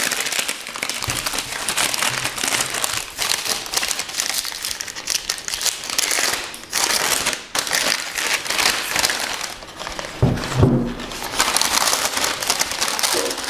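Paper wrapping peeled from a Glenlivet Founders Reserve whisky bottle, loud crinkling and crumpling close by in continuous bursts with short pauses, without talk.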